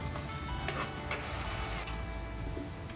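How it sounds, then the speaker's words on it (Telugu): Onions frying with curry leaves and salt in a pan, a steady close sizzle with scattered ticks and stirring clatter, continuous throughout with no voices. "ఉల్లిపాయలు బ్రౌన్ షేడ్ వచ్చేంత వరకు ఫ్రై చేసుకోవాలి"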